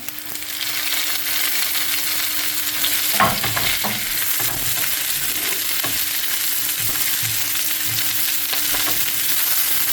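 Chicken wings with chili and wedges frying in a pan, a steady loud sizzle with irregular scraping and clattering as the food is stirred, no talking.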